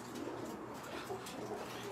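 Birmingham Roller pigeons coo softly in a steady, low murmur for two seconds, faint and continuous, with several birds overlapping and no voices.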